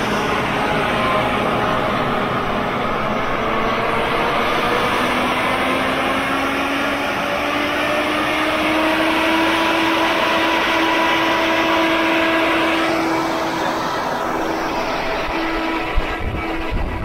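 A loud, steady mechanical blowing roar from a fire truck's large smoke extractor fan, continuous for the whole stretch, with a rising whine running underneath.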